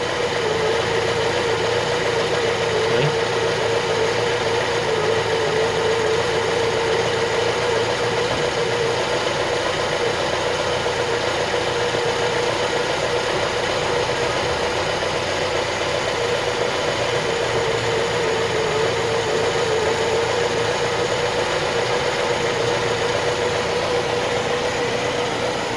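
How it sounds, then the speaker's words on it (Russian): A Moskvich-403 car with an M-412 engine idles steadily and smoothly after a carburetor change and warm-up, a constant mid-pitched hum with light vibration and no talking. "мотор прогрелся до рабочей температуры и очень даже хорошо работает. Маленькие обороты держит."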